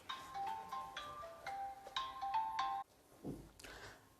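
A mobile phone ringtone goes off during a Kota Motion class 11 physical chemistry lecture, a melodic repeating tune of bright tones lasting nearly three seconds before cutting off, followed by a brief muffled sound.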